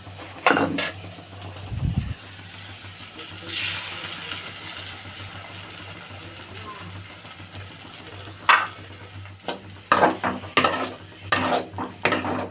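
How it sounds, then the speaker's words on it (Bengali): A cracked egg is beaten in a bowl for a home recipe, with soft, quick scraping and tapping strokes at a moderate distance over a faint kitchen hum. A few sharper clinks come near the end. "চলো ডিমটা ঘেটে নিচ্ছি"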